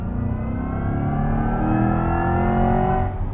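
A 2024 Corvette E-Ray pulls hard at full throttle, its engine note climbing steadily in pitch and loudness over a few seconds with no talking, close and continuous.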